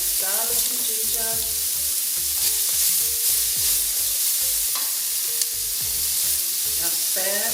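Onions, garlic and ginger frying in a pot, a steady loud sizzle with repeated stirring scrapes and knocks of a utensil, close up and uninterrupted by speech.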